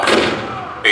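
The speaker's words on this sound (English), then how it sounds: "The cannon spoke for war, bitter, violent, and devastating." Cannon fire at Fort Sumter booms in a loud, broad blast that rumbles and decays for most of a second, with a fresh burst starting right at the end.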